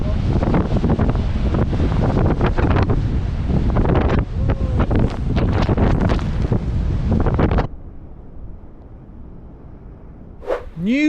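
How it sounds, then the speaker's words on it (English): Strong wind buffets the microphone while ocean waves crash and roar continuously at Fishguard, then the noise drops away abruptly to a quieter, calmer stretch. "where we should see, hopefully, some dramatic waves"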